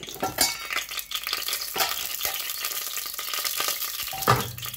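Ghee sizzling in a hot pan as a tablespoon is spooned in, a steady broadband crackle with clinks of utensils and a few sharp metallic knocks, close and moderately loud with no talking.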